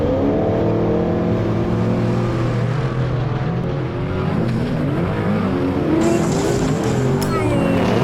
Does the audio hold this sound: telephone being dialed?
no